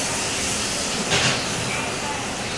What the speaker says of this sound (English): That is some sizzling.